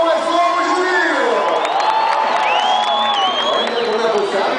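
A crowd at a truck show cheers, whoops and shouts loudly and continuously, with high excited voices rising over dense, steady crowd noise.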